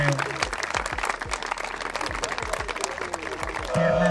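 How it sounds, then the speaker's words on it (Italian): Applause from a crowd at a football tournament award, distinct individual hand claps close by over a busy spread of clapping from many people, with voices mixed in beneath. "quindi chiedo un grosso applauso"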